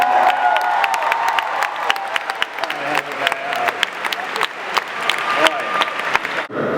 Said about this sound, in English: Big round of applause for our friend.